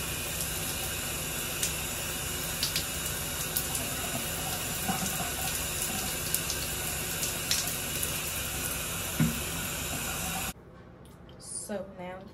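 Steady close hiss of shower water running in a bathroom for about ten seconds, then it cuts off abruptly, followed by faint movement and a short voice.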